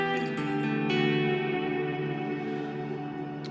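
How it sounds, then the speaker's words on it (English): Guitar played through a long reverb stacked after a sparkly, shimmery reverb block gives a sustained wash of ringing tones that hangs evenly for several seconds with no playing attack standing out. "So now I'm combining two different blocks. I got a long reverb after a more sparkly,"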